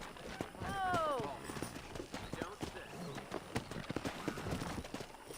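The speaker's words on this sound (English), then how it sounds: "O cavalo do John é bem bonito, né, mano" Hooves gallop in Red Dead Redemption on PC with a steady, rapid clatter for several seconds, partly masked by game dialogue and other sounds. A brief whinny cuts in near the start.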